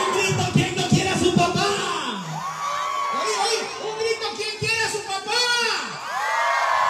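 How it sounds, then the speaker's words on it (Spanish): A Christmas parade crowd in La Libertad, El Salvador, shouts and cheers in excited bursts, voices rising and falling in loud whoops and yells close by. "¡Un grito a todo el Puerto de la Libertad!"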